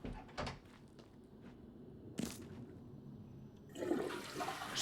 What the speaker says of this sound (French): On peut quand même tirer la chasse d'eau